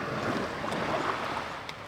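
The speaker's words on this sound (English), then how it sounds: "You can hear the ocean." Quiet ocean waves on a calm morning on the coast of East Timor, a soft, steady wash of surf with light wind, no voices.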